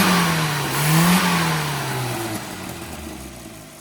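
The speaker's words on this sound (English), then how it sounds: "Engine sounds really aggressive" A carbureted car engine revs hard and close, its pitch rising and falling in aggressive surges before easing toward a lower rumble.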